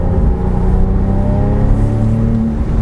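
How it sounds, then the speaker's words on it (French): A Porsche 997 GT3 accelerates hard on a race circuit, its engine loud and close with a rising, harmonic-rich roar that holds for the whole moment and no talking. "on envoie la voiture, on regarde bien loin, on accélère à fond"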